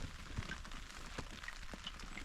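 Rain falls on a MiniCat 520 Explorer boat in the Stockholm archipelago, a steady, soft patter with scattered sharper drops tapping close by, and no talking.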